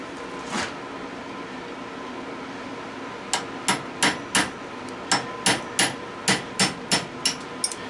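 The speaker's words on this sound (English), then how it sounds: "knocked it out with a punch" A hammer strikes a punch to drive a piece out of scrap brass on a cold winter day, about a dozen sharp metallic taps in a steady rhythm after a single early knock, close against a low hum.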